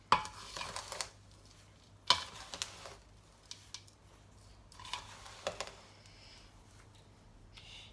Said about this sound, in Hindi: अच्छे से मिक्स करना है इसका, ताकि गुड़ अच्छे से मिक्स हो जाए।